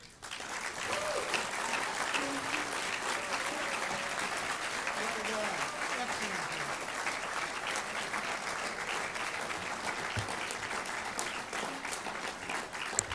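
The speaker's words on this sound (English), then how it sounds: "Let's give another round of applause to our candidates." An audience applauds candidates with sustained, dense clapping that holds steady for many seconds, while a voice speaks faintly underneath.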